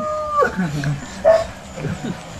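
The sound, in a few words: dog howling and whimpering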